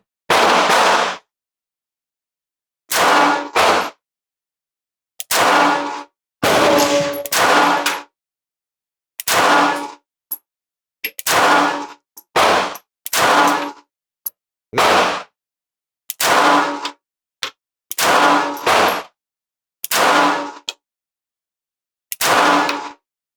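Beretta 80x Cheetah pocketable micro-compact striker-fired pistol fired ten times at a range, sharp loud reports spaced irregularly a second or two apart with silence between, no talking.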